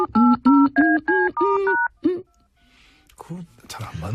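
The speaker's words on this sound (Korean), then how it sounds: "잠깐 있어봐. 전화 좀 걸고." A telephone number is punched in as a quick run of about seven loud, evenly spaced dual-tone keypad beeps, followed by a short pause and then faint background sounds and a voice starting to speak.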